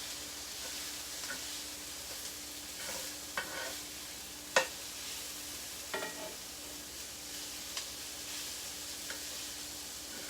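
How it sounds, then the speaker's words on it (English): Onions and ginger sizzle and fry steadily in a hot pan, a constant crackling hiss with scattered sharper pops and stirring clicks, moderately close and alone without talk. "you don't want your onions to cook too much"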